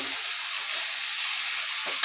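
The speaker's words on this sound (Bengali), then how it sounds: "এতিয়া মই সেয়া টেংৰা মাছৰ কাটাবিলাক মৰমৰাকৈ ফ্ৰাই কৰি আছোঁ" Steady, bright sizzling hiss of tengra fish bones frying crisp in hot oil, constant and fairly loud, with a brief clink at the end.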